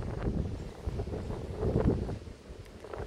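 Powerful outdoor wind buffeting the microphone with a constant loud rushing roar that swells and eases in gusts throughout.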